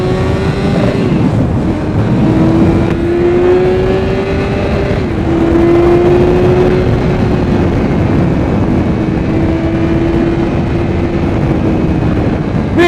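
A BMW S1000XR motorcycle accelerates hard in first gear up to around 7,000 revs, its loud engine note climbing in pitch through a series of surges, heard close and up front over wind rush.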